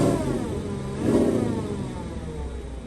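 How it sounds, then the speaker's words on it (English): A Porsche engine gives a short, brief rev that swells and fades, close and fairly loud over a steady idle, with no talking. "Give it a little tiny rev."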